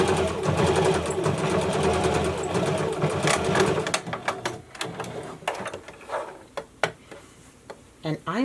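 A sewing machine runs steadily while stitching bias tape down along the straight edge of a fabric face-mask pocket, then slows into separate ticking clicks and knocks as the stitching stops and the fabric is handled.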